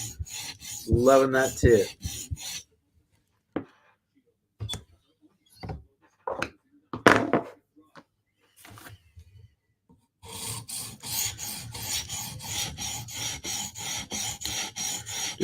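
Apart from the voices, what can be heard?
blade sharpening strokes on a whetstone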